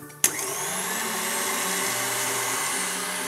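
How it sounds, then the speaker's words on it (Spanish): An electric mixer fitted with whisk attachments beats egg yolks for a key lime pie, a steady close motor whir that starts abruptly after a brief click and runs evenly throughout with no talking. "las ponemos en nuestra batidora con las varillas y batimos"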